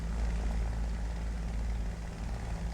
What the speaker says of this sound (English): Plane seems to be flying